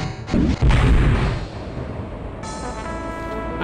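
Missile launch and blast in the space-combat game Wing Commander: Privateer, flown in a Tarsus ship: a heavy boom-like burst up front that decays into a long rumbling tail, followed by a steady electronic engine hum, no talking.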